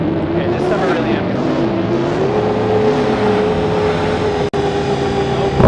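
A vehicle engine drones and shifts pitch as it drives over rough ground in the space game Star Citizen, loud and steady, with someone talking over it.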